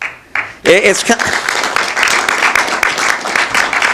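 Audience applause at a labor forum on BART workers and port truckers, breaking out suddenly after a brief shout and continuing as steady, fairly loud clapping under a few voices.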